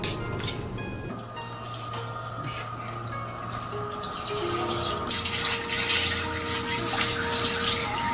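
Tap water runs steadily into a kitchen sink while a large tuna is gutted and cleaned, its gills and innards removed; a continuous close splashing stream with faint clatter, no talking.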